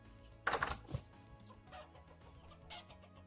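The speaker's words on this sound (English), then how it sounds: "That's a lot of chickens." Chickens clucking in the farming survival game Vintage Story: a loud cluster of clucks, then scattered quieter clucks and rustles from a crowded flock, with no talking.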